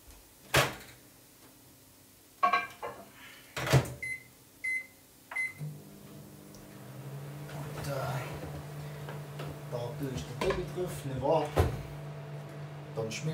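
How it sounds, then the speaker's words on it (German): Burgers going into a microwave oven: a few sharp clicks and knocks of the door and handling, three short beeps, then a steady low hum of the running oven with talk over it. "also die habe ich in die Mikrowelle"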